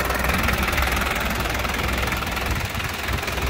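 A 1983 Daihatsu Taft F50 4x4 with its diesel engine idling, a steady close rumble with a rough knocking texture that holds evenly throughout, with no voices over it.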